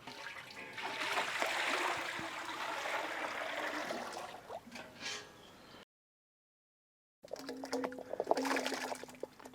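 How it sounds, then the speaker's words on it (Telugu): Water is poured into a cooking pot for kadai chicken, a soft, fairly quiet gush lasting a few seconds, followed by a brief silence and some light clattering. "ముందుగా దీంట్లో మనం వాటర్ యాడ్ చేద్దాం."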